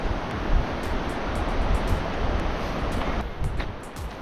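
The Irati River rushes through the Lumbier gorge in Navarra, a steady broad wash of flowing water with light wind buffeting, heard alone and fairly close.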